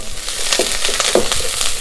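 Oil crackles and sizzles steadily in a pan as mustard seeds and onions fry, with a couple of brief louder pops close by.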